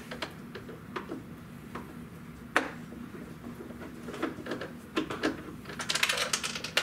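Scattered small clicks, ticks and metallic rattles of screws being removed from a Ford Super Duty towing mirror housing, irregular and fairly quiet, with a busier ratcheting burst near the end.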